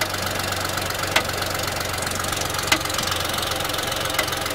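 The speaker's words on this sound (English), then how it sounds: "That sounds like backfire into the intake manifold." A Ford Fusion engine misfiring at idle keeps up a steady rough rumble, with a few sharp pops from backfire into the intake manifold breaking through at irregular intervals.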